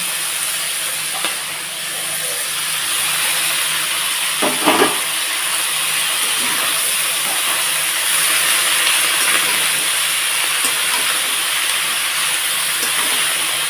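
Shredded cabbage dropped into hot oil gives a loud, continuous hissing sizzle that holds steady throughout, with a couple of brief louder spatters partway through.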